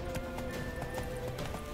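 Roach the horse galloping in The Witcher 3, with a steady rapid rhythm of close, loud hoofbeats over a brief background hum.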